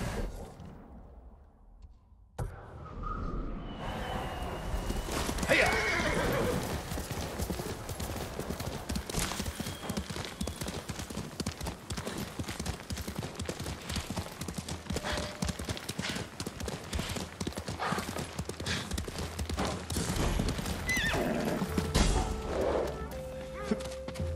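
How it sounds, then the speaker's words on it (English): Horse hooves clip-clop steadily throughout in Ghost of Tsushima, with an occasional whinny, over a busy background of game clatter and thuds. "You're a good horse, Nobu."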